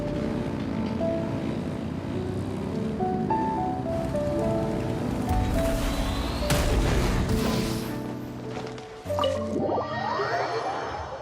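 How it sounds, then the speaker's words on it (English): Ship engines revving up in Genshin Impact, a loud, continuous rumbling roar with rising mechanical whine and rushing air, swelling midway and shifting into a higher sweeping tone near the end, with no talk over it. "Rev the engines!"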